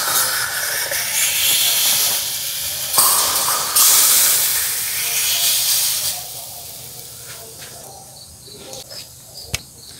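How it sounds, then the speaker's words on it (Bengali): Tea poured into a hot clay cup for tandoori tea, a loud hissing sizzle and rush of steam that flares strongly, then fades into quieter bubbling and faint crackles. "ও গরম গঠির মাঝে এখন আমি চা ডালদাম।"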